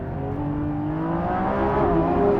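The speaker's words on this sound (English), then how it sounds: "So the minute you get on the accelerator pedal, it just wants to launch towards the horizon." A Lamborghini Revuelto V12 hybrid accelerates with a steady, rising engine drone. The loud, close roar builds smoothly in pitch over a couple of seconds with no gear break.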